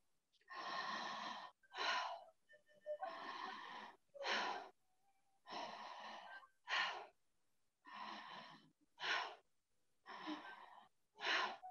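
A deep breathing exercise, with slow rhythmic breaths alternating between longer airy inhales and shorter forceful exhales, about five cycles, close and fairly quiet with clear pauses between them.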